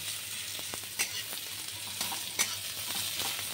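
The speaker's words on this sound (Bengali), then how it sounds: "পেঁয়াজগুলো বেশি একটু লাল লাল করে ভেজে নেব।" Chopped onions frying in oil until reddish-brown for a spicy Bombay duck jhuri, a quiet, even sizzle with a few sharper spoon clicks and stirs against the pan.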